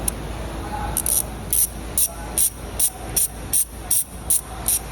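A ratchet wrench clicks in a steady series of about ten short, crisp bursts while a bolt is turned loose during workshop tool practice, each burst close and distinct against a quiet background.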